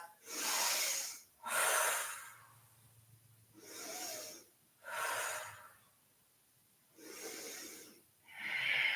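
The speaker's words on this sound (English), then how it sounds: "Nice, big, deep rounds of breath" Deep, slow yoga breathing during a class, with six loud, close breaths through the nose, each rushing inhale or exhale separated by short pauses, alone without talk.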